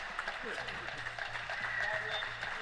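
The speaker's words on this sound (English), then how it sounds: "they're getting a standing ovation from the crowd" A crowd gives a standing ovation after an epic professional squash match in Houston, with sustained applause and cheering at a moderate distance beneath a commentator's talk.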